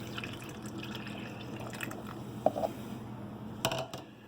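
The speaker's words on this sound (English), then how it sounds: "Pour water in there for my coffee" Water poured into the reservoir of a Mainstay coffee maker: a close, steady splashing fill lasting a few seconds, broken by a couple of brief clinks near the middle and end, with no voices.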